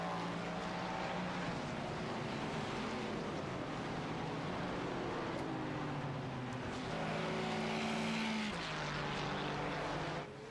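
Endurance race cars at Magny-Cours circuit make a continuous engine drone at a distance, the pitch shifting as cars pass and swelling briefly louder partway through.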